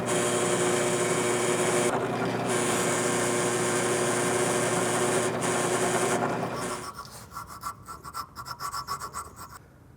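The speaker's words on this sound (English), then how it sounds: "drill a couple of holes for this slot" A loud, steady high-pitched drill whine runs for several seconds, then cuts out into scraping and intermittent grinding bursts.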